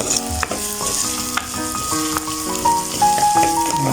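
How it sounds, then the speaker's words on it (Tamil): Potatoes and onions fry in oil for a prawn curry being cooked outdoors in a village, giving a steady, loud sizzle with occasional stirring and clinks from the pan. "நல்லா பொரியட்டும் இந்த உருளைக்கிழங்கும் இந்த வெங்காயத்தோடு சேர்ந்து"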